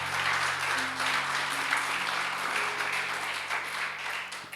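A church congregation gives warm applause during an evening prayer service, steady dense clapping over a low hum, fading slightly toward the end.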